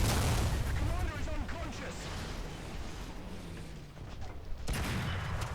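Tank cannon and gunfire boom and crackle through a constant rumbling battle din in War Thunder, with an M24 Chaffee in play, all loud and dense, while a player talks over the noise.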